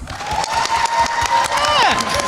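A convention audience claps and cheers in a steady, loud wash of applause, with a few voices shouting over it.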